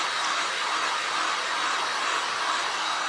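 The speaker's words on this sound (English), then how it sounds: "I'm going to hit this with the dryer real quick just to make sure that black is nice and" A hair dryer blows steadily and loudly for a few seconds, drying black resin on a pumpkin, a continuous even whoosh with no talking.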